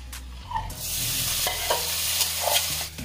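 A hand-mixed masoor dal mixture goes into hot oil with a dried red chilli and is stirred, giving a close sizzle with repeated spatula scrapes and knocks against the pan, no voices.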